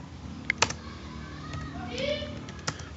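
Typing on a computer keyboard, a few scattered clicks and taps under a steady hum, with a voice talking softly in the middle.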